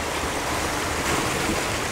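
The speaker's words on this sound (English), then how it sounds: "But you hear the waves, that really makes you happy." Sea waves wash in a continuous broad roar, loud and steady, with no voices over the surf.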